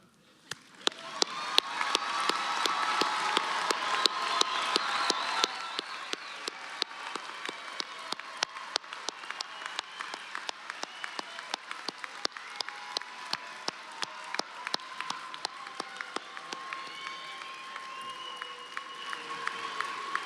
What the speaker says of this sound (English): Hey, everybody, we can clap.